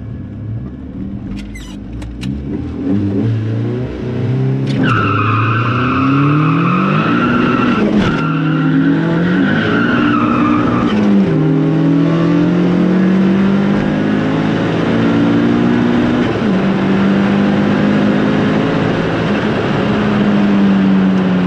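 A 1.8T Mk2 car launches in a quarter-mile drag race at Killarney, its engine rising and falling through loud, rapid gear-change sweeps, close and continuous, with a brief squeal near the start.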